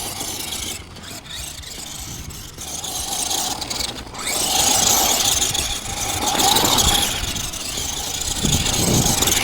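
FMS FMT-10 High Roller two-wheel-drive RC monster truck with its electric motor whining as it drives hard over dirt and bumps, a loud continuous buzzing drone with rising squeals and gritty rattles.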